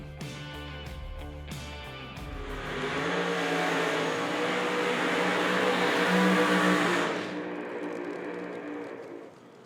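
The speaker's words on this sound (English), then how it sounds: "As they thunder down through there in the process of the burnout." Pro Mod drag race cars roar through a burnout at an IHRA Outlaw Nitro event, a loud sustained engine howl with tire noise that swells, holds steady for several seconds, then drops away abruptly.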